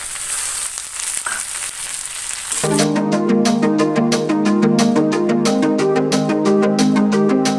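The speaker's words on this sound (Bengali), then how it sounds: "এরপর আমি ওই টমেটো কুচিগুলো পেঁয়াজের মধ্যে দিয়ে দেবো।" Chopped tomatoes hit hot frying onions, a steady broadband sizzle from the pan for a couple of seconds before rhythmic tonal music takes over and continues to the end.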